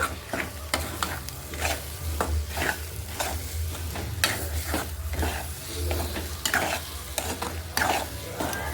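Egg and capsicum stir-fried in a pan, a steady close sizzle running throughout, with repeated scraping and stirring strokes at an even rhythm.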